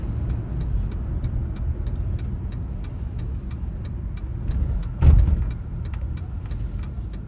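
A car passes on a road, a steady engine and tyre roar that swells briefly near the five-second mark, with rhythmic ticking throughout.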